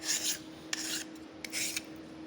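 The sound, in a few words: filing edge of aluminum bracket with hand file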